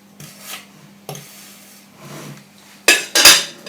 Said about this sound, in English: with your icing ruler, again, pull it forward so that you're holding it still and at a 45-degree angle